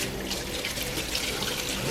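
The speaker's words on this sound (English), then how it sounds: "we're going to rinse them first with water" Steady running water splashes over habanero peppers in a strainer in a sink, a continuous close hiss and trickle with no talking.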